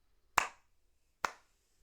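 Two sharp, quiet golf claps, spaced about a second apart, each a crisp single smack with a short decay in an otherwise silent room.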